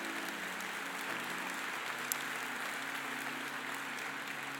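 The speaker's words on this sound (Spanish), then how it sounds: "Dale un aplauso al Señor" A church congregation applauds the Lord after the sermon, producing a continuous wash of many hands clapping that sounds distant and subdued and holds steady with no voices standing out.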